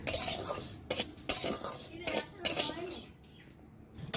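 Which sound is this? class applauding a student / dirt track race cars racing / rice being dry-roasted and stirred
rice being dry-roasted and stirred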